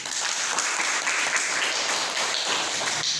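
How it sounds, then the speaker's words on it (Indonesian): Steady classroom applause from students at a junior high school lesson, a dense wash of clapping sustained for a few seconds without a break. "Give applause, please."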